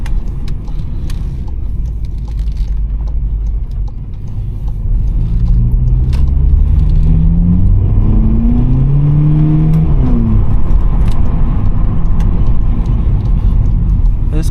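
From inside a VW Polo GTI (6C) with a 192 hp engine and 7-speed DSG, accelerating on a damp road: a deep road roar builds as the engine pitch climbs through rising sweeps, then steadies loudly to the end.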